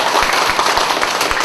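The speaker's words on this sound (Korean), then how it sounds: "박수라도 열심히 칠?" Applause from a lecture audience for a marriage counselor training course, a dense, steady patter of many hands clapping at close range for a moment without any speech.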